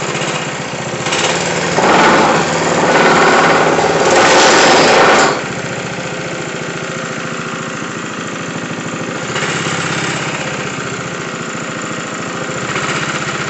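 A Honda GX160 engine on a plate compactor runs steadily at close range with its choke on, a buzzing small-engine drone that swells louder for a few seconds near the start, then settles into an even idle.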